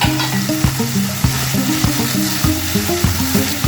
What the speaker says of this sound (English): Now we're going to cook until the veggies softens up a bit.